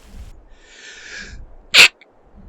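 A single sharp, loud sneeze bursts close to the microphone midway, standing out against quiet background with faint murmuring before it.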